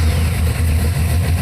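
A street-legal stock car engine idles loudly close by, a steady deep rumble with a slightly lumpy, uneven pulse and no voices.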